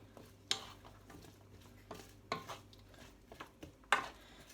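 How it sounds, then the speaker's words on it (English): Vegetables for veggie tacos stirred in a pan with a wooden spoon, giving soft scrapes and a few sharper knocks and clinks against the pan, spaced irregularly and fairly quiet, with no talk. "I'm just gonna stir that around a bit just to mix it up."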